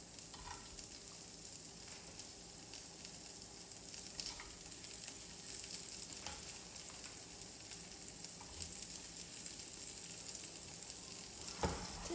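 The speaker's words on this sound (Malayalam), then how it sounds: "എന്നിട്ട് ഈ ബട്ടറിലേക്ക് മൂന്ന് ഗാർലിക്ക് സ്മാഷ് ചെയ്ത് ഇട്ട് കൊടുക്കണം ഇനി ഇതിലേക്ക് നമ്മൾ ഫ്രഞ്ച് ഫ്രൈസ് ആഡ് ചെയ്ത് കൊടുക്കാം" French fries frying in garlic butter give a continuous, fairly faint sizzle and crackle with scattered pops and occasional stirring noises, heard alone without speech.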